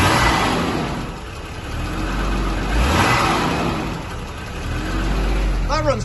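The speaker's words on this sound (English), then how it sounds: "Give it a rev." A Jaguar XJ-S six-cylinder engine, running on very little fuel, is revved up and down in loud, close swells from idle. People talk over the engine noise.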